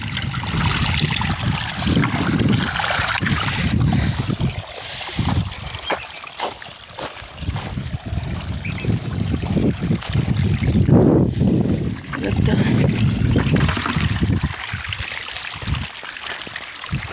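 Borewell water gushes steadily into storage tanks during the summer heat, a continuous loud rushing and splashing with gusty wind buffeting the microphone throughout.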